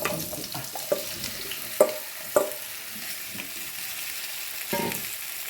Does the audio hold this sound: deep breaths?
no